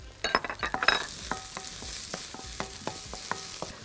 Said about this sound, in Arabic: هجيب هنا بصلايه في حبه زيت صغيرين وابدا ادبلها